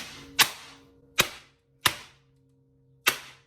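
Four sharp, loud bangs of a tray of piped French pastry rapped against a kitchen counter, spaced unevenly over a few seconds, each a crisp impact with a brief ring-off, close by and with no talking.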